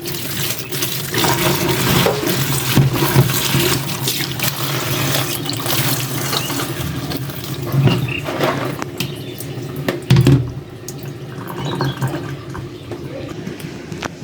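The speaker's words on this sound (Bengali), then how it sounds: "আবার একটু ঠান্ডা পানিতে ধুয়ে নেব" Cold water running over boiled bean seeds in a kitchen sink, a steady broadband splash and trickle filling the whole stretch with brief louder knocks, close and alone without talk.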